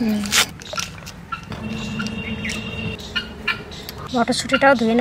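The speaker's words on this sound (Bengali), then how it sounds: "তুর্কিগুলো পাখিগুলো ডাকছে দেখছিস," Turkeys gobble in the background of an outdoor kitchen in the Sundarbans, with bursts of calls toward the end, while someone talks over them.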